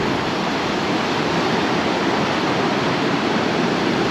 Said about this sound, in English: the waves are really splashing up against the rocks